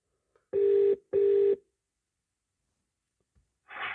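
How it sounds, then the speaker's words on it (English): A mobile phone call connecting through an in-car DAB/FM handsfree adapter: two clear, evenly spaced ringback tones, then silence before a faint burst as the line picks up. "See, I just made a call now."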